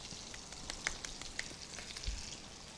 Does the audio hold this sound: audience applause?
no